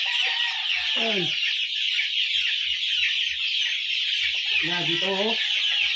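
Bulik gamefowl roosters cluck and call near a steady wash of background noise during feeding, with brief low knocks, while someone talks briefly over them.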